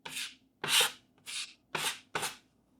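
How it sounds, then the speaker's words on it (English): All-purpose putty is spread into a hole in sheetrock drywall with about five separate scraping, rubbing strokes, close and fairly soft, with short pauses between them. "I would just take some of this all-purpose putty here and just put it in the hole like that"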